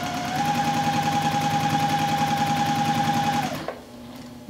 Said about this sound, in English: So I'm gonna bring this over to the sewing machine just like this and continue to